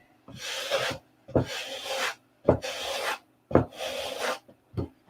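Hand sanding of an aircraft part in a hangar, close and clear: five steady rasping strokes in an even back-and-forth rhythm, each with a soft knock at its start, separated by short pauses.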